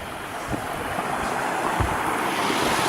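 Waterfalls near Salmon Bridge along a hiking route send up a steady, broad rush of falling water, continuous and moderately loud with a faint windy edge and no voices.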